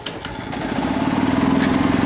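A portable generator's small engine catches after the choke is set, settling into a steady, rhythmic chugging that runs loud and close throughout without any talk.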